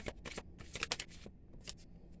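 Tarot cards are shuffled and drawn nearby: quiet, brisk riffling bursts come in short uneven clusters with brief pauses between them.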